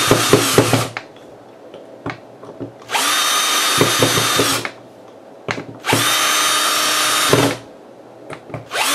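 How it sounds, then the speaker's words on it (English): A power drill driving screws into a guitar camera mount whirs loudly in two long bursts, separated by clicks, knocks and handling sounds of screws and parts. "I'll take my power drill and drill that in"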